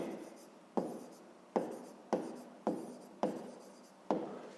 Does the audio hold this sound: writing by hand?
yes